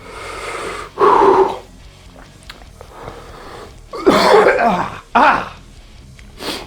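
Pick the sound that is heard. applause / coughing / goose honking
coughing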